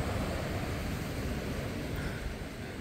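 Rough surf at a rocky beach on a stormy day, a steady loud broadband roar of waves with wind filling the whole stretch, no distinct breaks, no voices.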